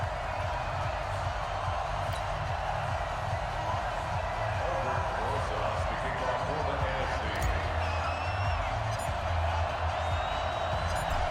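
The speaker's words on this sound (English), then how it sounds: "The crowd is fired up" Stadium crowd at the 2020 NFL Pro Bowl football game, a steady dense roar of cheering and chatter that stays loud and constant throughout, with occasional whistles and a public-address voice faintly over the top.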